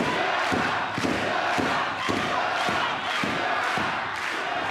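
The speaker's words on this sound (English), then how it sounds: "Crowd chants for Ryogoku in Korakuen Hall." A Korakuen Hall crowd at a Stardom women's wrestling show chants the wrestler Ryogoku's name in steady rhythmic beats about once a second, loud and filling the arena.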